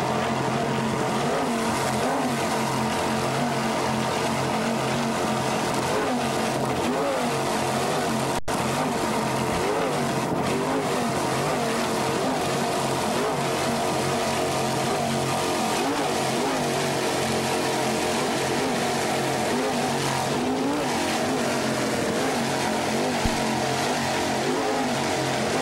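Offshore powerboats race in an offshore B class event, their engines roaring steadily for the whole stretch as a loud, continuous, droning blur.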